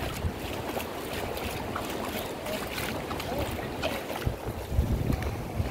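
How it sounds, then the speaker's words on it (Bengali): A fishing trawler heads back out to sea off Enani beach at Cox's Bazar, its low engine rumble steady under gusting wind noise and surf, with no clear speech. "এই যে মাছ ধরার ট্রলারটা আবার চলে গেল"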